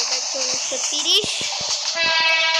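A commuter train ride in a video game: low rumbling engine drone with short horn-like tones and clanking pulses. A voice talks over the steady train noise.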